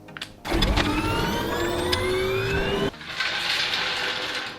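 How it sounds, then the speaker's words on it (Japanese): An electric car lift raises the body of a Suzuki Every DA64V van, a close motor whine with rising tones running for a few seconds before cutting out into a softer airy hiss. "それでは人中リフトで車体を上げていきます。"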